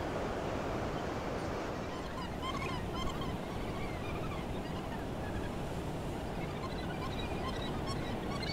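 A gannet colony calls at Muriwai Beach on New Zealand's west coast, a dense continuous chatter of many birds on the nesting rock, steady and moderately loud over wind and surf noise.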